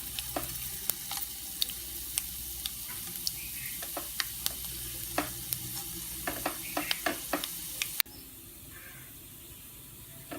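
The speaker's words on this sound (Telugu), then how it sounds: "ఇవి ఎగిన తర్వాత శనగపప్పు, ఆవాలు వేసి వేయించండి" Chana dal and mustard seeds frying in oil for pulihora, a continuous sizzle with scattered sharp pops and crackles, close by, the sound dropping quieter near the end.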